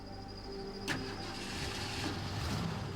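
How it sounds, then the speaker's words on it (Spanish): A car engine is started, a short crank with a sharp catch before it settles into a steady low idle that continues to the end. "El auto fue encendido sin ningún problema."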